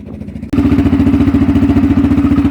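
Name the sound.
Polaris Sportsman 500 ATV engine running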